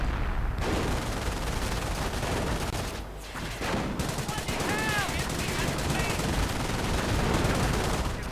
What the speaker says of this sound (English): MG opening up on the British Bren gunners.